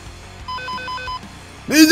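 A phone rings with incoming messages in the video game Dead Rising 2, a warbling electronic trill pulsing a few times at moderate volume before a loud shout cuts in at the end.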